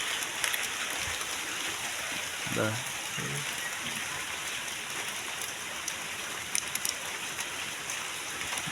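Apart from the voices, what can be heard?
heavy rain falling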